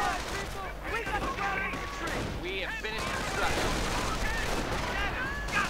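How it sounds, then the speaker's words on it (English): A sniper rifle fires amid scattered gunfire and battle noise in a WWII real-time strategy game, with a commentator talking excitedly over the top. "German sniper fires and gets the American."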